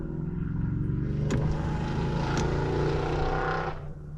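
A Chevrolet Camaro with a 6.2-liter American muscle car V8 roars past outside, heard from inside another car as a loud, steady engine drone that swells and fades over a few seconds.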